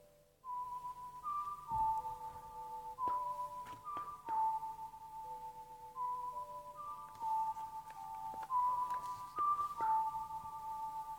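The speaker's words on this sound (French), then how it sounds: "Je vais siffler avec mes doigts," Sharp, piercing finger whistling plays a simple melody from Zelda: Ocarina of Time, held and stepping notes, clear and alone against a quiet background.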